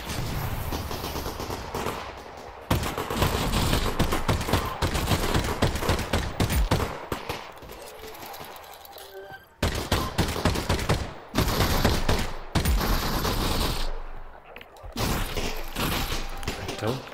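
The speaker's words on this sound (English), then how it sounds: "you just shoot the zombies up" Rapid bursts of video game gunfire as zombies are shot in Half-Life: Alyx, loud and nearly continuous with a few short pauses and a muffled voice underneath.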